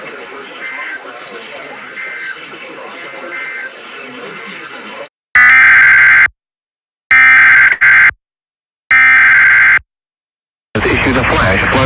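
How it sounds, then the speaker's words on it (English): National Weather Service public warning alarm tone on a radio broadcast: after a muffled stretch, loud steady electronic tone bursts sound in three separated blasts with silent gaps between them, ending in more broadcast audio. "the National Weather Service has just activated the public warning alarm tone"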